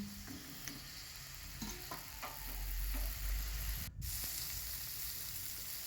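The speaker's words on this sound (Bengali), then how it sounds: "শিমগুলোকে দিয়ে দেবো শিমগুলো বেশ একটু লাল লাল ভেজে তুলে নেবো" Flat beans frying in oil after cauliflower, a quiet sizzle with a few light stirring clicks and scrapes, no voices.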